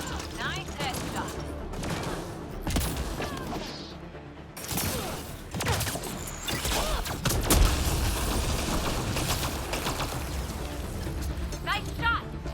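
A firefight in the video game Mass Effect: Andromeda, with bursts of gunshots and booming impacts rolling on and off under frequent talk.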